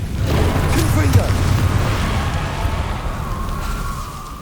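Confringo blasting spell exploding in Hogwarts Legacy gameplay, a heavy booming blast with a low rumbling tail that fades away over a few seconds.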